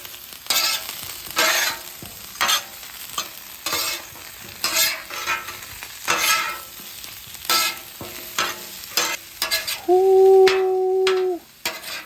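A sauce of mayonnaise, parmesan, garlic and butter sizzles on a Blackstone griddle, crackling in repeated bursts as a spatula stirs and scrapes it, close and fairly loud with no voices.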